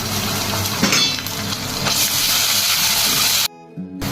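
Ginger garlic paste hits a hot pan of softened onions and curry leaves, a loud, steady sizzle and hiss that runs continuously before cutting off abruptly near the end.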